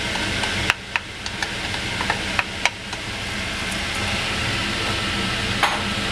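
Two small Vidalia onions dropped into a pot of simmering black-eyed pea masala, with a steady bubbling sizzle broken by a few sharp clinks and taps of a spoon on the pot.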